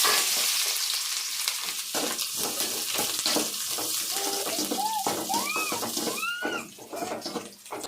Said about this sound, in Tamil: அடுத்து வெங்காயம் போட்டுக்கலாம்